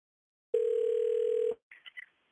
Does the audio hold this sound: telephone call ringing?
yes